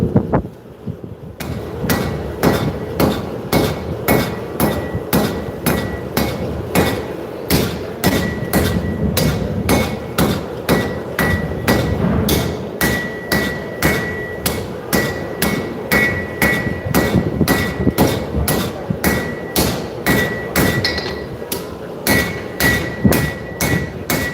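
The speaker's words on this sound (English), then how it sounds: "I'm hammering in the same spot and I'm moving the material" A forging hammer strikes hot steel in steady, rhythmic blows, dozens of sharp strikes in quick succession, loud and close with a bright metallic ring.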